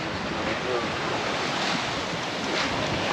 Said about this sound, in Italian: Ci sono 25 nodi di vento, 3 metri d'onda.